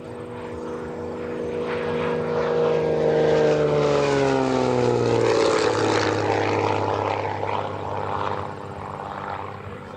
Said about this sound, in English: Oh, look at this beautiful airplane.